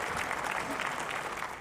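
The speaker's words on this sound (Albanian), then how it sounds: "Me vërshëllima dhe duartrokitje është pritur kryeministri izraelit Benjamin Netanyahu në prag të fjalimit të tij në Asamblenë e Përditshme të OKB-s" Dense applause from a large assembly crowd at the UN General Assembly greets Israeli prime minister Benjamin Netanyahu, steady and loud throughout with no clear whistles standing out.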